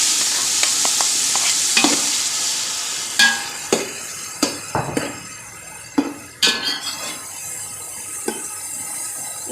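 Tomatoes and green chilies tossed into a pot of frying matar pulao base send up a soft sizzle, while a spoon clanks and scrapes against the metal in loud, irregular knocks.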